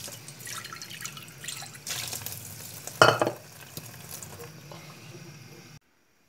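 Blackish water drains from an Eca Confeo Plus boiler, a close splashing and dripping stream that swells into a louder gush in the middle, then eases to trickles before stopping abruptly.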